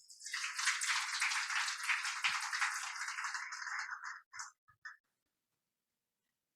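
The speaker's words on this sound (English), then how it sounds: "Please give a big round of applause for Dr. John Irvine from ZemFuel." An audience applauds a presenter at a startup demo day event: dense, steady clapping for about four seconds, then a few scattered last claps before it falls silent.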